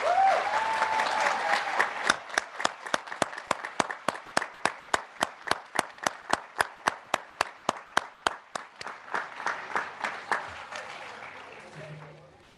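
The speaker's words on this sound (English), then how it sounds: "Please join me in a round of applause" A commencement audience at a 2021 academy graduation applauds an award recipient. Scattered clapping builds into a steady, close, rhythmic round of claps that thins out toward the end, with some talking underneath.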